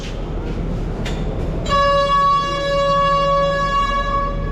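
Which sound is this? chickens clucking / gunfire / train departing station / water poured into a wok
train departing station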